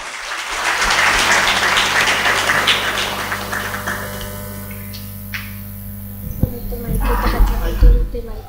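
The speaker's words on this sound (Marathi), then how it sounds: "आपण सर्वजण जाई खामकर मॅडम यांच्या कार्याला सलाम म्हणून टाळ्या वाजवून त्यांचं कौतुक करूया" An audience claps at a commemorative program for Sane Guruji's birth anniversary; the dense clapping swells and fades, leaving a room hum and a voice speaking.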